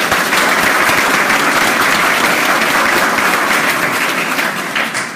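A packed hall gives loud, sustained applause at a Doctor of Physical Therapy white coat ceremony at the NYMC School of Health Sciences & Practice, with the dense clapping tapering slightly at the end.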